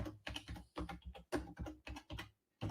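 Rapid bursts of typing on a computer keyboard, close and clear, in uneven clusters of keystrokes with brief pauses between them and a short gap before a final tap.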